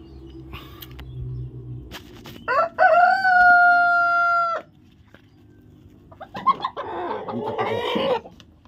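Hens competing for a nest to lay eggs cluck nearby, with one long, drawn-out squawking call and bursts of agitated cackling over quiet farmyard background.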